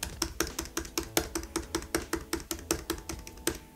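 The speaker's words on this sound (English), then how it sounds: "The butterfly keyboard is louder" Fingers type on a MacBook Pro butterfly keyboard close up, a quick, even stream of sharp, shallow clicks at about four or five per second, quiet overall, with no talking.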